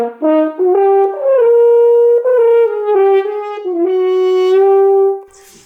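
A natural hand horn plays a slow series of notes stepping up and down, some with a muffled, stopped quality, each held before sliding to the next.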